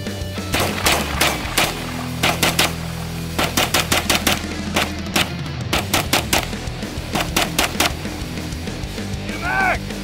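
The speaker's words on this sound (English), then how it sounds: "we're busting out the 9mm pistol AR. I'm looking forward to this because I've never shot one." Rapid bursts of 9mm pistol AR gunfire at an outdoor shooting event, sharp loud shots in quick strings with short pauses, some spaced single shots, and a faint voice near the end.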